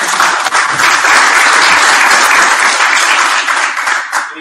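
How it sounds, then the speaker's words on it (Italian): Audience at a programmers' meetup in Padua, Italy, applauds an organizer, a loud, dense burst of clapping that holds steady for about four seconds and then tapers off. "un applauso Giulio"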